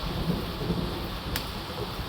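Steady rain falling during a storm in Wang Pong, Phetchabun, Thailand, with a low rumble of thunder underneath and a brief sharp crackle partway through; constant, moderately loud wash of rainfall with no voices.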